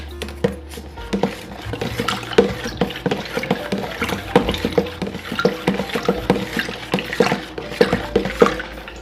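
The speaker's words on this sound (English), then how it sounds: "And now I'm gonna mix everything together." Jamaican rum punch with pimento berries stirred in a container, busy sloshing and clinking with rapid spoon taps throughout, close and fairly loud, no voices.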